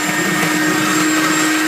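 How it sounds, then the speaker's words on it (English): Electric whisk beating pavlova meringue, a steady loud motor whine with a constant pitched hum that runs unbroken throughout, alone with no talking. "start to mix your electric whisk"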